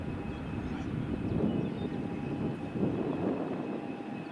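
A plane on approach to runway 05 at Madeira Airport gives a steady, moderately loud engine drone with a low rumble that rises and falls gently, heard alone with no talking.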